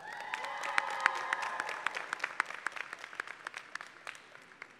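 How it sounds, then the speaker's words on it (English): A crowd applauds families at a community college nurse pinning ceremony, dense clapping that starts full and thins into scattered individual claps, with a faint hum of voices underneath at first. "if you could give your families a big round of applause"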